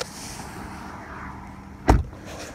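Door of a 2014 Chrysler 300 being handled as the driver steps out, a low ambient hum followed by one solid close thunk of the door shutting, with a faint rattle trailing after.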